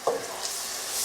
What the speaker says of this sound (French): vous touillez